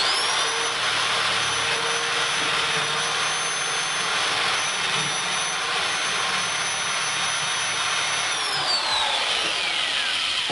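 A power drill with a 15/16 inch bit bores a hole through a lid for a mycology injection port. It makes a loud, steady whirring whine that runs without a break for about ten seconds, with no talking.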